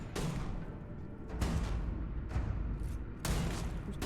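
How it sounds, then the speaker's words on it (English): Gunfire in the Starfield video game, with several broad loud bursts at irregular intervals over a steady rumbling background, and no talk. "Who's taking pot shots?"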